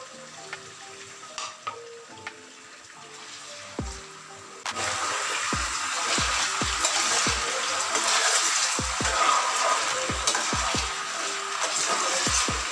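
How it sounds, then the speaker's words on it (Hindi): Potato pieces for a Spanish omelette frying in hot oil, with a steady loud sizzle that starts abruptly and carries on under repeated knocks of a utensil against the pan, after a quieter stretch of clinks. "अच्छे तरीके से फ्राई करना है।"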